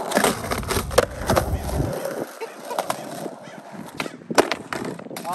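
Birds squawk and honk repeatedly, goose-like and fairly close, at an outdoor skate spot, mixed with skateboard wheels rolling and clacking and occasional voices.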